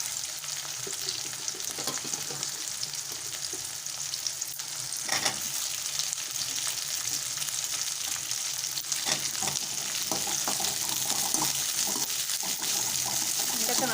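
Cut okra frying in oil for an eggplant kara kuzhambu, a dense close sizzle with intermittent stirring scrapes and clatter over fourteen seconds.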